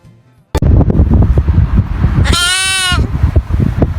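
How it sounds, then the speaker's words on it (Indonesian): Sheep bleating once, loud and close, a wavering bleat under a busy background of music and voices in a children's alphabet lesson. "untuk domba."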